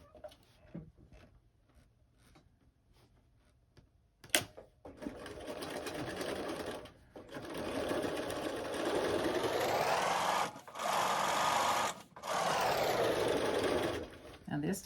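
A sewing machine back stitches a lunch bag seam at a box pleat: a few soft handling taps, then a loud sustained whirr that stops twice briefly before resuming, close by.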